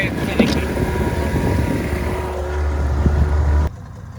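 A small two-stroke outboard on a boat in the Grenadines runs with a steady, close droning buzz that continues for most of the moment, then cuts off abruptly near the end.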